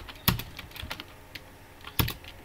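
A few sparse keystrokes on a computer keyboard while writing HTML in a text editor, two sharper taps standing out from softer, scattered clicks, close and quiet with no talking.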